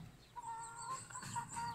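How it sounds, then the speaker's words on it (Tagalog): Backyard chickens cluck softly in a short, fairly faint stretch, with a few brief calls repeating over low outdoor background noise. "Baba tayo dito sa aking mga manok."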